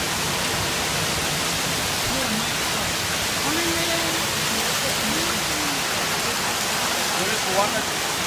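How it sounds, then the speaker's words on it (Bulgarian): Heavy rain pours in a steady broadband roar during a violent storm, constant and loud throughout, with faint voices briefly audible underneath. "Това е такова торнадо!"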